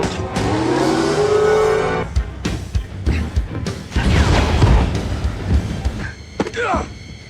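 Car racing at speed in a Fast & Furious fight scene, engine revving and rising in pitch, with tire squeal, skids and crashing impacts amid loud action sound and brief voices.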